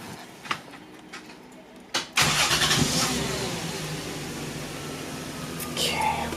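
An aftermarket air ride compressor kicks on in a 2000 Lexus GS300, jumping abruptly to a loud, steady whirring drone that holds for several seconds after a few quiet knocks.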